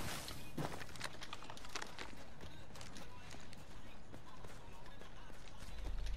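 Footsteps move through a first-person shooter match, a rapid run of soft, evenly spaced steps sitting under steady game ambience and other in-game noise.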